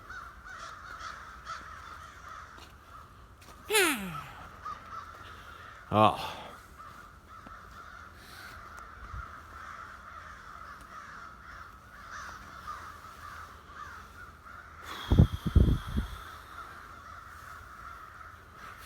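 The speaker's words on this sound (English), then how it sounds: "A lot of crows." Several crows caw in short bursts out in the open, with one call near the start, another a few seconds later and a louder cluster near the end, over steady ambient hum and a brief spoken exclamation.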